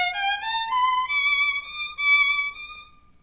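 Solo violin plays a short passage from the Mendelssohn Violin Concerto with a common error, a few sustained, rising notes with a clear singing tone, heard alone and close.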